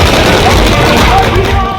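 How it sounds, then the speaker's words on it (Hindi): Fireworks crackling at a party office celebration in Jaipur, a dense loud burst of rapid pops and bangs running continuously for the whole moment. "आतिशबाजी भी तब हुई जब जयपुर शहर की सांसद पार्टी कार्यालय पहुंची।"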